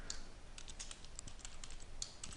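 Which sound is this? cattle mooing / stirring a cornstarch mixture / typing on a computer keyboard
typing on a computer keyboard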